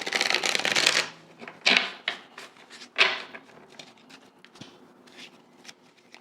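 Oracle cards shuffled by hand for a reading: a dense burst of riffling at the start, then a few sharper card slaps and softer sliding shuffles, close and quiet with no talking.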